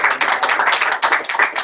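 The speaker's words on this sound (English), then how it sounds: "Big round of applause." A small group claps for a speaker, a brief, close burst of dense hand claps with slight swells, no voices over it.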